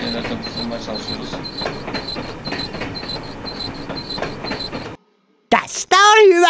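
Trains in the railway level of the 90s Hugo game: a loud, steady rattling rumble with a rhythmic clatter for about five seconds, then a sudden cut to silence, followed by a short burst of bright, warbling game sound.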